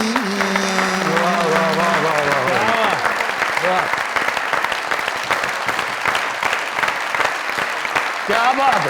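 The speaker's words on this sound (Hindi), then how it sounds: "जोरदार तरीन ताली" Studio audience at a comedy talk show breaks into strong, sustained applause as a sung line ends, the clapping steady and full for several seconds while a host talks over it.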